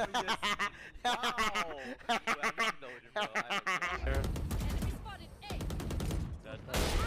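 Rapid bursts of gunfire from the tactical shooter video game Valorant, with several close, sharp volleys under excited talk and laughter from players.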